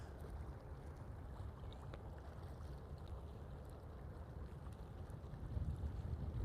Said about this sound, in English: I can actually hear the motors reverse.